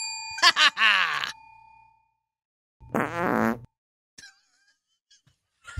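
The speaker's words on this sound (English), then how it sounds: "Whose fart was that?" A played-back fart sound effect from a soundboard sounds first, a buzzy wobbling blast. A second short groaning burst follows after a pause, then faint scattered clicks. No talk is heard.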